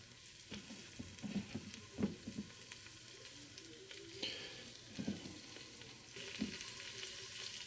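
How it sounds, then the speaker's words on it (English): Venison pieces brown in melted butter in a pan, a quiet crackling sizzle with occasional louder spits and stirring clatters, close and fairly soft, no voices. "once the butter starts melting really good, start sizzling, we're gonna put the meat in. We're gonna brown it."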